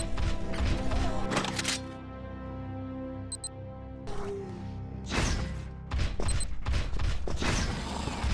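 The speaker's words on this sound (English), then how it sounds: "Avalon, try an impulse move for me." Impulse move in the sci-fi video game Implosion, a burst of heavy mechanical thuds, whooshes and crashing impacts in quick clusters, with game sound effects and brief beeps between them.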